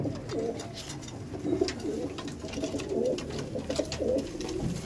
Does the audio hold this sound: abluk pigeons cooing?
yes